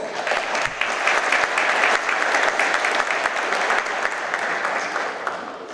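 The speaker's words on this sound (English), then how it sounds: "So give yourselves a round of applause" Steady, dense applause from the audience at a county police department annual service awards ceremony, sustained and even for several seconds with no talking over it.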